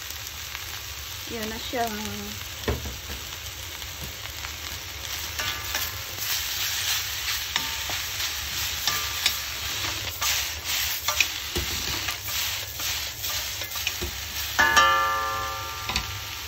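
Broccoli and leftover ingredients fry and get stirred in a pan, a steady sizzle with scraping spoon strokes throughout, and a few brief spoken words near the start.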